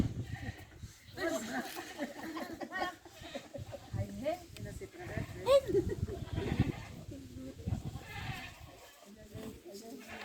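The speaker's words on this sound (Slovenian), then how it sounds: "Ja, takole pa koze vrtnice pospravljajo." Goats bleat on a farm in Serbia while they strip rose bushes. Repeated bleats come over steady background noise, and people talk in a foreign language during parts of it.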